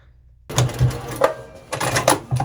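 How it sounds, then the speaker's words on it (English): A sewing machine stitches the bottom edge of a crossbody bag pocket, starting after a short silence with several loud, rhythmic bursts of needle clatter and motor whir, up close and without speech. "sew the bottom edge of the E2 pocket"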